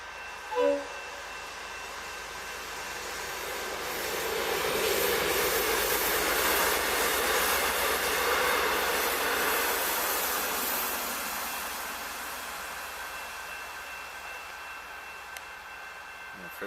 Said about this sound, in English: Oh, looks like we've got a train coming.